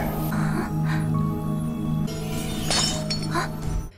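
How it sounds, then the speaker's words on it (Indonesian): Glass shatters as a sharp dramatic sound effect in a Chinese fantasy drama, with a clinking burst and tinkling fragments over a steady tonal background, followed by a second bright crash near the end. "tiba-tiba saja Lang Huan mendengar sebuah pecahan gelas"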